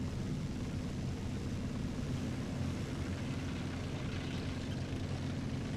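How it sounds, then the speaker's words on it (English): Aircraft in the War Thunder video game, a continuous broadband roar with a low droning hum, steady in loudness throughout and heard alone at moderate level. "So an airplane has come in and dropped some bombs on"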